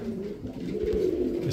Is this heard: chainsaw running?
no